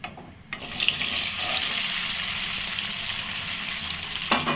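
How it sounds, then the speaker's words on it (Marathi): Potatoes shallow frying in hot oil for dum aloo: a loud, dense sizzle bursts in after a brief quiet start and holds steady and close until the end. "बटाटे आपल्याला शालो फ्राय करून घ्यायचे"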